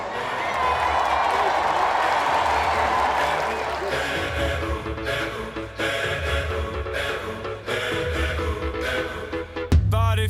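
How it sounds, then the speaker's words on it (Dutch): A live studio audience at an evening entertainment show applauds for three performers: dense, loud crowd clapping and cheering for several seconds that thins out before music starts at the end. "Mag ik een applaus voor Phil, Koen en Paul alvast?"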